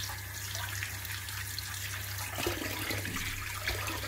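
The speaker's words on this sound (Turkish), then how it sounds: "Suyun altında yıkadık." Running tap water splashes over oyster mushrooms into a basin below, a steady broadband rush at close range with a few soft knocks of handling and no voices.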